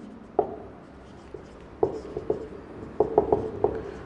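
Pen writing out a maths solution on paper: scattered short scratchy strokes and taps, close and fairly quiet, some clustered in quick bursts, with no talking.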